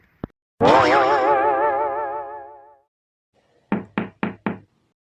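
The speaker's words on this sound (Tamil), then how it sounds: "கதவை தட்டுங்க" Knocking on a door in a village comedy scene: a single knock, then a long wavering comic boing-like tone, then four quick, loud, evenly spaced knocks.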